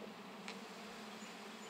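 Honey bees buzz steadily around an open hive during a mite treatment, a soft continuous drone heard up close with no voices.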